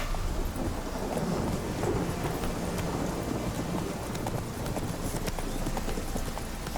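Roach, the horse in The Witcher 3, gallops with a steady, continuous clip-clop of hooves over a constant windy outdoor ambience, with no talking.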